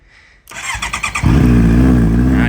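A 2017 Honda CBR650F motorcycle with about 26,000 km is started: a short burst of cranking pulses, then the engine catches and settles into a loud, steady idle close by.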